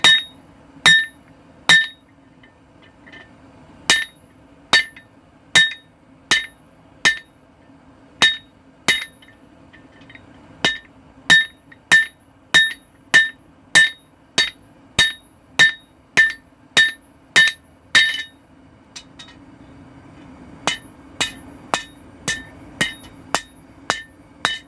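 A hammer strikes a cold chisel to cut off the end of a metal bar in a forge, sharp ringing metallic blows in a steady rhythm, about thirty in all, loud and close with brief pauses between runs.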